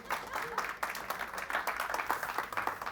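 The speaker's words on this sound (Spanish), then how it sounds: "Para Carmen, el aplauso." A church congregation breaks into lively applause, quick overlapping claps from a modest crowd filling the room, with no voices over it.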